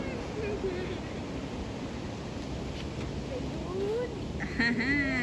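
River water pours over a weir on a rural river in Thailand, a steady broad rushing roar close by, with a voice speaking faintly over it near the end.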